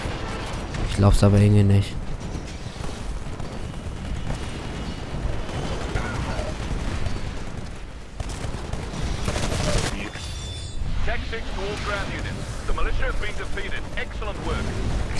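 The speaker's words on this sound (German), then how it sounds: "Einfach mal drauf schießen" Gunfire and explosions in the video game Titanfall beta, with heavy blasts, rumbling impacts and bursts of shooting throughout, loud and dense, while someone talks over it.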